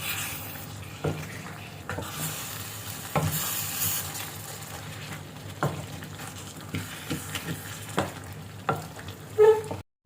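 Chicken gravy being stirred in a frying pan, a continuous close sizzle broken by repeated scraping strokes of a spoon at an irregular rhythm, with a sharper clatter near the end.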